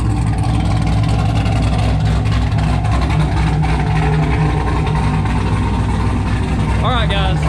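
A Chevrolet Camaro fitted with a Magnaflow 3-inch straight pipe exhaust drones loudly and steadily close by, a deep continuous engine roar that fills the whole stretch, with a brief higher whine near the end.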